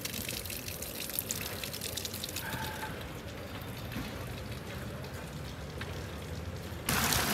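Steady water flowing from a Roman nasone, the cast-iron public drinking fountain in central Rome, a continuous close splashing stream with a brief louder burst near the end.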